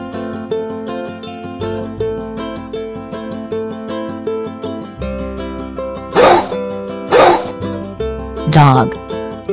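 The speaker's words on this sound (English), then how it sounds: "Dog." Three sharp dog barks, evenly spaced and fairly close, pop out over a bouncy background tune.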